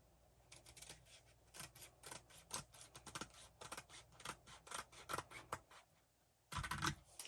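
Scissors snip through paper for a handmade picture vase in a rapid, irregular run of crisp close cuts, with a louder rustle of paper near the end.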